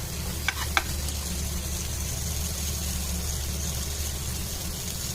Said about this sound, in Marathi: आता दुसऱ्या साईडला भाजायला ठेवली